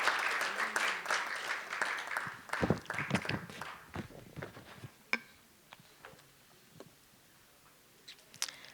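Audience applause for panelists at a climate and environment breakout session, a burst of clapping that thins into scattered claps and fades out.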